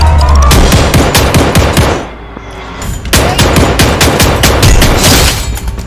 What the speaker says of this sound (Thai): มีคนยิงกันพี่พี่เราเข้าวงก่อนพี่